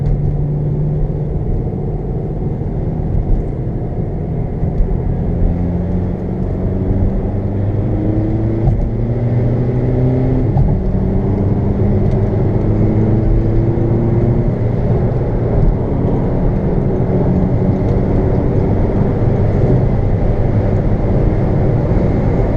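A tuned Audi A3 with a DSG gearbox pulls onto a highway. Its steady interior engine drone rises through several smooth gear changes over a constant rumble of road and wind noise.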